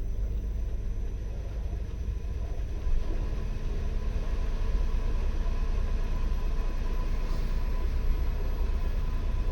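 A DIY 15 kW electric inboard boat motor, a high-torque direct drive on an 18-inch propeller with no gearbox, runs with a steady, even low rumble and faint hum throughout, with no talking.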